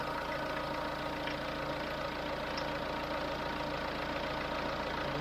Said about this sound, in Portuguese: Já é a terceira vez que ela vai ligar aqui o eletroventilador. Vai notar que vai girar aí.